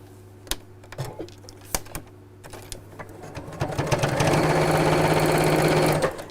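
A sewing machine stitches a button pouch, starting with sparse clicks and short bursts before settling into a steady, fast continuous whir for the last few seconds, close and alone.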